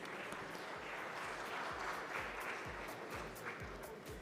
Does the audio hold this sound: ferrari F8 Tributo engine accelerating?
no